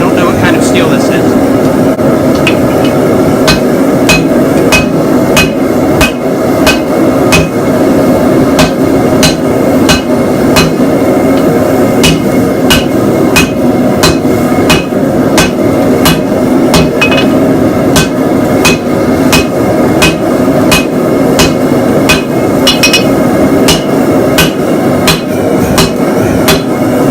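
Steady hammer blows ring out on hot steel being forge welded into a Damascus knife from a saw blade, a regular rhythm of sharp strikes over a constant roaring forge or blower background.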